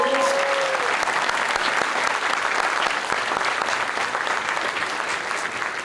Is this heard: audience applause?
yes